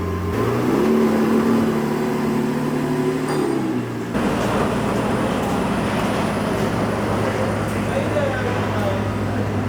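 A Lamborghini SVJ supercar rolls in, its engine a low steady rumble that shifts pitch partway through, continuing as a sustained drone with broadband road noise.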